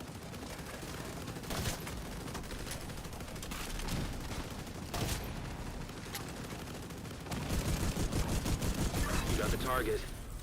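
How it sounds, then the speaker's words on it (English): Scattered gunshots and volleys in a video game pop at irregular intervals, with a heavier, denser stretch of firing toward the end, under ongoing talk. "I guess they're just shooting."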